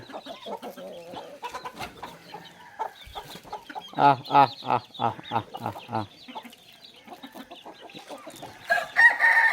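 Chickens clucking and calling as they run in to be fed rice, a cluster of loud rhythmic clucks in the middle with scattered bird calls around it, nearby.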